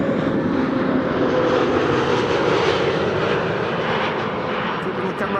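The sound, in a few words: TAP Portugal Airbus A321neo jet arriving from Lisbon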